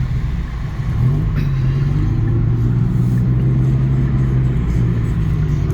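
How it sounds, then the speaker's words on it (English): A Dodge Viper sports car's engine drones close by, heard from inside a neighbouring 2024 Genesis G70: a steady, loud, low rumble that swells slightly after the first second and holds for the rest. "with the noise of the Viper drowning us out"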